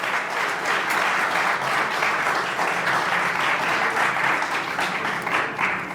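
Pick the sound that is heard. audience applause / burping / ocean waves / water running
audience applause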